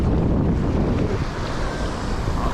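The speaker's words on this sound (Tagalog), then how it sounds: "Low tide na maalon." Choppy sea waves wash in at low tide, a dense continuous roar of surf mixed with strong wind buffeting the microphone, close and loud with no voices.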